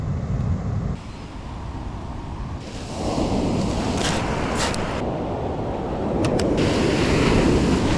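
Ocean surf breaking on a New Zealand beach, a steady loud wash of waves with surges that swell and recede, mixed with wind buffeting the microphone.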